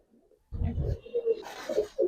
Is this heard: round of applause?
no